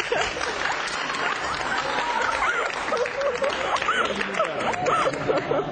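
After a dance move in Georgia, an audience applauds with a dense, continuous patter of clapping mixed with chuckles and crowd chatter, steady and fairly loud throughout.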